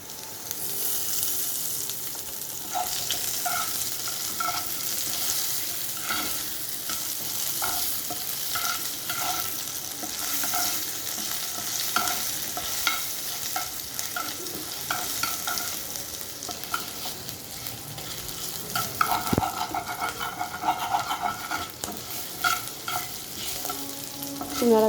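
Potatoes fry in a pan with a steady sizzle while a utensil stirs them in regular scraping strokes, close and continuous, with a sharper clatter near the end.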